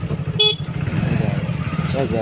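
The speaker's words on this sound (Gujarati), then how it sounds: "તો ચલો આસ્તે આસ્તે બાઇક કાઢ નાખીએ" A motorcycle engine hums steadily at close range beneath continuous talking, with a brief horn toot near the start and another near the end.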